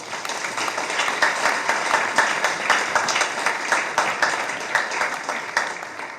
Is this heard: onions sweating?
no